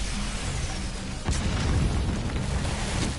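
A muffled explosion booms at about a second in, followed by rumbling debris and dense low noise from a Metal Gear Solid V game scene, with no talking.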